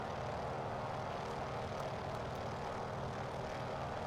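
Noorduyn Norseman radial-engine aircraft in Microsoft Flight Simulator, with a loud, steady, close propeller-engine drone that holds unbroken throughout.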